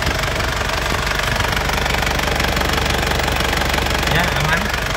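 A car engine runs steadily and smoothly without knocking, a continuous close and loud mechanical hum that holds unchanged throughout.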